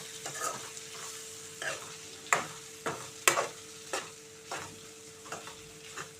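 Ivy gourd pieces stir-fry in a pan, a soft continuous sizzle punctuated by about a dozen distinct spatula scrapes and clinks at irregular intervals, fairly quiet and without voices.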